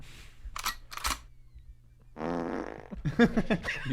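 A fart rings out during a live comedy show: a couple of short, sharp bursts, then a longer, buzzy, drawn-out one, with a burst of talk and laughter following.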